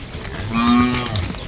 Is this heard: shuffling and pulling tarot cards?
no